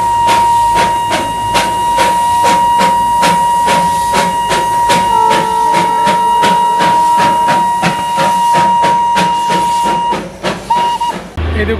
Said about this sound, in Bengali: স্টার্ট করছে আর টেস্টিং চলছে, হর্ন দিচ্ছে মাঝে মাঝে।